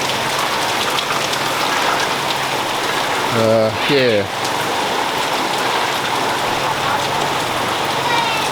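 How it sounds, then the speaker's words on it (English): Heavy rainy-season rain pours steadily onto a construction site and its covered surfaces in a constant loud hiss, with a brief voice speaking partway through. "It's rainy season. It's not even monsoon season, it's just rainy season."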